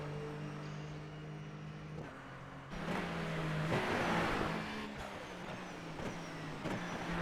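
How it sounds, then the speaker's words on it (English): Race car at a short-track race, engine revving hard and bouncing off the rev limiter as gears are worked: steady high-pitched engine drone with repeated stutters and surges, heard from a distance over crowd and track ambience. "Listen to Ryan Taylor work them gears. Bouncing it off the rev limiter."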